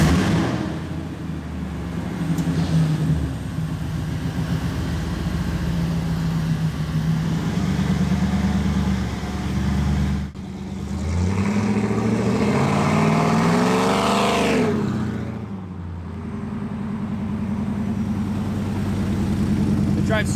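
A Ford SVT Lightning pickup truck's engine hums while driving, running underneath a person talking, with a rising engine sweep as the truck accelerates near the end.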